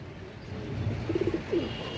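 Golden pigeons at a pigeon market cooing in a short run of soft, low pulsing coos, close by, over a steady background hum.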